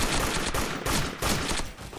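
A Toy Soldier M1 Carbine fires in quick repeated shots, about four loud, close bangs in two seconds, with no talking.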